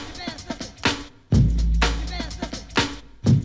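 A punchy sampled drum breakbeat, with crisp snares, hi-hats and a deep boomy low end, played in a loose looping groove.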